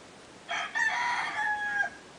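One rooster crows once in the distance, a faint, drawn-out cock-a-doodle-doo over a quiet background.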